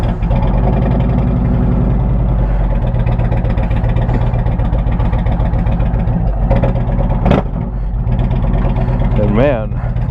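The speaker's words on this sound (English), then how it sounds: "here's me on the bike and starting it up with the new Tab Performance Catalytic 2-to-1-to-2 and zombie baffles" Indian Challenger motorcycle starting up with a TAB Performance cat-delete 2-into-1-into-2 straight pipe and zombie baffles, settling into a loud, steady, throbbing idle close by, with a brief sharp blip near the end.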